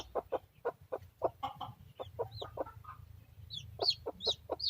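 A bantam chicken clucks close by in a quick, irregular series of short calls, some rising into higher squawks, over a low background hum.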